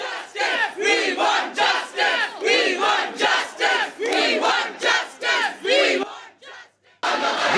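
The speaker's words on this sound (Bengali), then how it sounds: "তাঁদের দেখে উই ওয়ান্ট জাস্টিস স্লোগান দিতে থাকেন পড়ুয়ারা" Students protesting at a college chant a rhythmic slogan in unison, roughly a dozen loud crowd bursts in steady cadence, briefly dropping away before resuming at the end.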